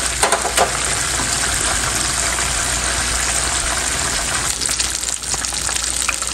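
Chicken broast pieces fry in oil over a low flame, giving a steady, even sizzle that holds at a constant level throughout with no talking.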